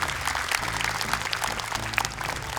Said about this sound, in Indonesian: Boleh tepuk tangan dulu untuk Bang Icang